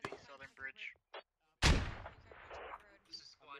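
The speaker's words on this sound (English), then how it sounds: "Oh, the INS are mortaring or smoke mortaring something." Mortar rounds launched in a tactical shooter game land as a sharp, loud boom with a long rumbling tail, following moments of a voice and light game noise.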